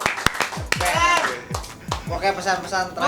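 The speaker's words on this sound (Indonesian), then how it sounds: "Iya, tepuk tangan semua." Brief bursts of group hand clapping, about half a dozen sharp claps, mixed with children's voices and adult talk in a casual gathering.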